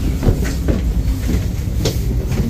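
Train running on rails, heard from inside a carriage, with a steady low rumble and periodic clattering knocks from the wheels over track joints.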